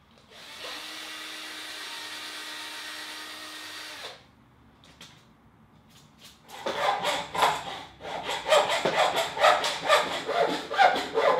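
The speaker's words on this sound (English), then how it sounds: "after I will cut down this dowel in pieces" Hand or power sawing through a wooden perch dowel for a bird cage: a steady buzzing cut for about four seconds, a pause, then loud, rhythmic rasping strokes close up.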